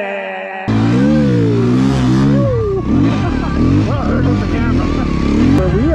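A heavy enduro motorcycle rides inside a mine, its engine loud and close with rising and dropping revs that echo off the rock, and voices murmur underneath.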